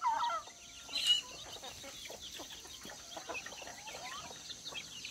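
A turkey gobbles and clucks in short bursts, moderately near, over a quiet outdoor background.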